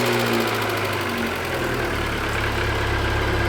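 A VW Polo car engine running at idle, a steady, loud mechanical hum and rumble with a slight shift in tone partway through, continuous and close with no voices.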